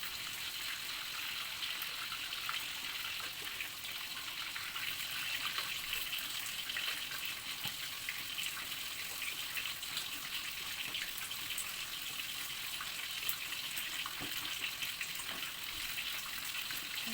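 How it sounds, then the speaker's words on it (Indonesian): Water splashes over a gurame fish frying in hot oil in a pan, producing a continuous hissing, bubbling sizzle at moderate distance with no clear breaks. "kita bantu siram-siram air bagian atas ikannya supaya ini juga cepat matangnya"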